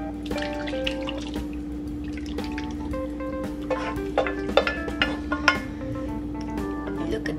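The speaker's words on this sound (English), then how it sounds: "Now we're going to pour all of this in here." Hot peach cobbler filling, just taken off the stove, being poured into a baking dish; wet drips, splashes and scraping clinks over a steady kitchen hum, with a few sharper splats near the end.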